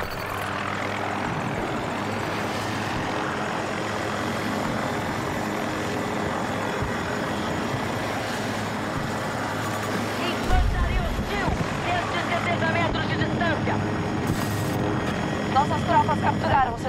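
A steady MD540 Nightbird helicopter rotor drone from Battlefield 2042 fills the clip with game ambience, continuous and loud, growing rougher and heavier in the last few seconds.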